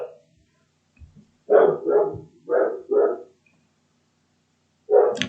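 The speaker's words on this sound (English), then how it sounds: "So sorry for the pause. My dog was just making a lot of noise." A dog barks nearby in short, loud bursts: a doubled bark, another quick pair, then a single bark after a pause, with quiet stretches between and no talking.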